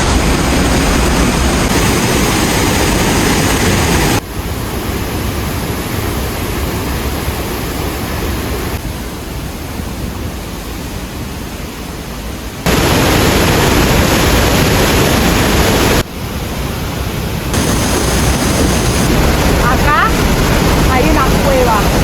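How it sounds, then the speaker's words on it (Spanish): Steady, loud roar of a waterfall in Baños, Ecuador, a dense broadband rush that fills the whole scene with brief shifts in level and no clear speech over it. "tremendo el ruido de la cascada"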